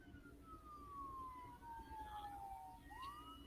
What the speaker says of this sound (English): Where am I hearing sirens from?